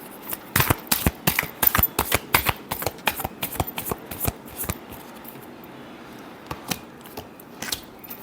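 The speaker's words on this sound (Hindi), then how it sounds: "Last shuffle." Tarot cards are shuffled by hand close up, with a quick run of sharp riffling snaps at first that thin into scattered, softer flicks, with no voice over them.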